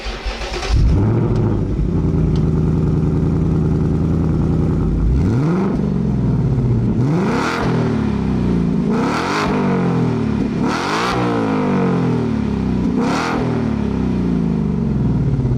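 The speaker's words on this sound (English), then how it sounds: "What you are about to hear is the all-new 2024 Mustang GT exhaust note." A 2024 Ford Mustang GT V8 exhaust fires up and revs repeatedly, loud and close, each throttle blip rising and falling in sharp bursts.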